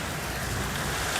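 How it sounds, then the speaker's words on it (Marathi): Heavy rain pours down outside during a power cut, a dense, even wash of noise that stays steady and close without any break. "बाहेर बघू शकता पाऊस अजून पण सुरू आहे"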